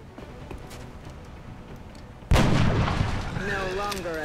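A grenade launcher fires in XCOM: Enemy Within, one sudden loud boom that breaks a quiet, low background and rolls on into a sustained rumbling explosion tail.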